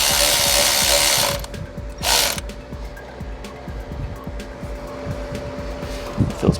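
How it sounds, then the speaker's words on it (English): A ratchet wrench turns the belt tensioner on a Honda Accord during belt replacement, giving steady fine clicking with a couple of louder broadband bursts, close and alone without talk. "So then we turn our tensioner here clockwise."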